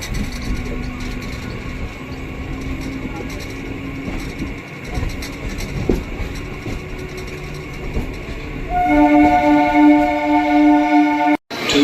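An Etawah–Mathura MEMU train running on the line toward Agra Cantt, a continuous rolling rumble with clattering, then a louder stretch near the end marked by steady tonal whines and a brief sharp dropout.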